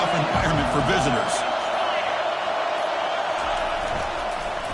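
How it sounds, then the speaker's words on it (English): Stadium crowd roar in the NCAA 25 college football video game, a broad, steady rumble of many fans that stays loud throughout while a commentator talks over it. "Listen to the crowd energy here in the early going."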